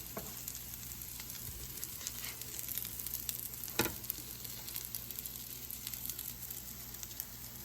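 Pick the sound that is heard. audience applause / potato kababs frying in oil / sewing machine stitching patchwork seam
potato kababs frying in oil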